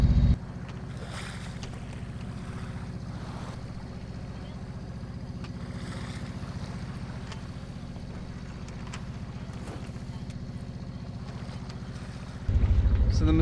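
A sailboat motors slowly toward the Messina Strait at night, its engine a steady low drone mixed with wind and water noise, broken by louder bursts at the start and end.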